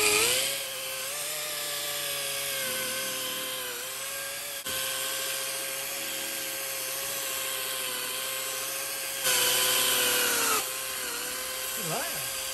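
A car polishing machine runs continuously during the second polishing step, a steady high whine with slight pitch wavers and a louder stretch near the end, close throughout.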